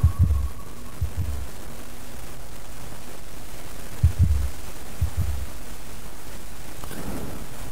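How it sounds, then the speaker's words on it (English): Deep, thudding heartbeat effect in a video game, a few paired low beats spaced irregularly over a constant hiss, loud and close with no talk. "Why have I got a heartbeat for?"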